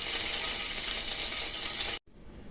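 Urad dal, cumin, mustard seeds and curry leaves hit hot oil for tempering, giving a loud, dense, close sizzle that holds steady for about two seconds and then cuts off abruptly.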